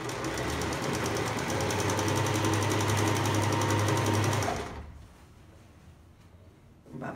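Sewing machine stitching fabric for homemade shorts, a steady loud mechanical whir with rapid needle rhythm running for about four and a half seconds, then stopping to near quiet with a faint handling sound at the end.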